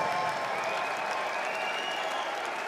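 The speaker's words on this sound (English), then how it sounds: "how about a big round of applause for both fighters?" Dense, steady applause from a large crowd after a 12-round boxing match, continuous and loud throughout with no pauses.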